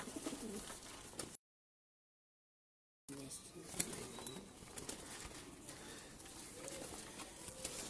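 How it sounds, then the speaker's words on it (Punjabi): Sharmile breed pigeons coo softly and steadily at close range, with scattered wing flaps and rustling. There is a brief silent gap early on. "ਇਹ ਦੇਖੋ ਜੀ ਸ਼ਰਮੀਲੇ ਕਬੂਤਰ ਅੱਜ"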